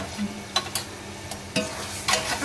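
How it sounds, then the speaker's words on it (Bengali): Mutton masala with ground cumin, ginger paste and whole garlic cloves is stirred in a pan, giving a low sizzle with a few sharp scraping strokes of a spoon, close and fairly quiet. "মশলাটাকে ভালো করে কষাতে হয়"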